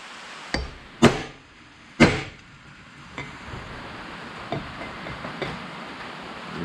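Metal hammer strikes drive a wheel bearing race on a 2005 Ford Ranger front hub, two loud sharp ringing blows followed by several lighter taps, close up in a quiet garage.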